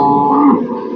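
A pregnant cow at a cattle sale gives a single loud, close moo lasting about a second, with no talking over it.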